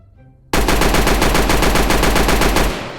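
The Mac SMG fires a rapid full-auto burst in a Roblox game, loud and close, the evenly spaced shots running for about two seconds after a brief quiet start before trailing off.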